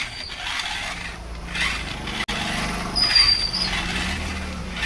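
A small metal toy Mahindra tractor whirs along and turns in a tight space, giving a faint mechanical gear hum with a brief click partway through, close and continuous.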